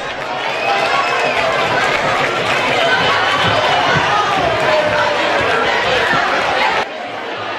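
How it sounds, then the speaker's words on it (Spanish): A carnival audience in a tent at Zalamea de la Serena gives a dense, loud wash of applause and cheering that holds steady for several seconds and then drops off sharply near the end. "¡Un fuerte aplauso para ellas!"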